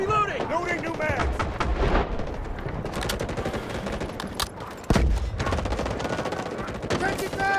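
Gunfire in the video game Delta Force during a 24-versus-24 warfare siege, with dense overlapping rifle and machine-gun bursts and heavy booms, loud and continuous, with in-game voices calling out over the shooting.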